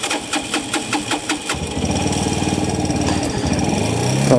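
A motorcycle left standing for a year cranks with rhythmic starter pulses for about a second and a half, then catches and settles into a fast, steady running engine that rises slightly toward the end.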